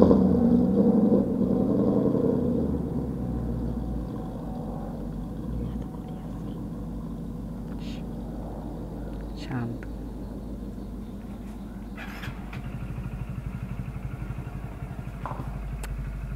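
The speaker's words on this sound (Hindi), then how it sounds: "तो देख सकते हैं फ्रेंड्स मस्टैंग जीटी की आवाज़ कितनी खतरनाक है।" A Ford Mustang GT engine rumbles with a loud, deep burst at the start, then settles into a steady low idle throb, with voices talking over it.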